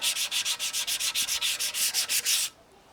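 Sandpaper rubbed back and forth over old paint on a Mazda MX-5 Eunos Roadster, roughing the surface: about fifteen steady, even strokes, close and fairly loud, then stopping abruptly into quiet.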